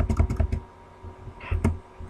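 A computer keyboard's Enter key is pressed repeatedly, giving a quick run of about five close, crisp taps followed by a couple more after a brief pause.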